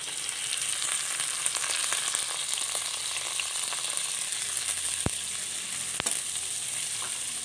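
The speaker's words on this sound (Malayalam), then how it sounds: "ഇനി 2 ചെറിയ സവാള ചെറുതായിട്ട് അരിഞ്ഞത് അതിട്ട് കൊടുക്കാം." Chopped onions and cumin seeds sizzle steadily in hot oil for an egg and soya chunks roast, a constant close frying hiss with a couple of sharp clicks from a stirring spoon near the end, no voices.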